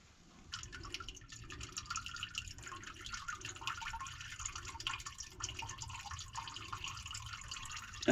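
Oil drips steadily out of a drain plug on a small skid steer, a continuous liquid trickle with faint repeated drops, fairly close and without talk.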